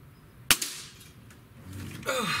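A single sharp shot from a Diana AM03 N-TEC .22 caliber breakbarrel air rifle fired at a target about 20 yards away: a crisp crack followed by a short echo, then soft handling noise.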